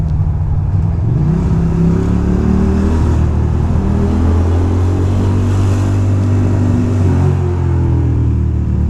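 A Ducati Monster 620 motorcycle on a city street, its engine held in gear and revving steadily at high RPM, a loud continuous droning rumble with rising pitch sweeps, close and alone.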